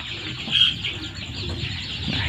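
Free-range village chickens in a coop make busy, overlapping clucks and chirps, close by and fairly loud, with a steady background hiss.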